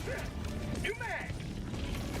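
A weapon magazine reload in Helldivers 2 gives a short mechanical clack and ratcheting slide partway through, set against dense game noise and background rumble, with a voice talking over it.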